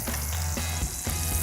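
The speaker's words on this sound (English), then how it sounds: "So we're gonna go ahead and get a real nice dark sear on these." Wagyu beef and pork belly burger patties searing in a hot pan, a loud, continuous close-up sizzle with a few crackling pops, no voices.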